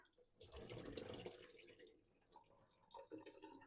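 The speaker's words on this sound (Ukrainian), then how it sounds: "Зливаю воду з родзинок." Water from soaked raisins is drained into a sink while making kutia, a steady pouring splash that fades into faint drips and small trickles, quiet and close.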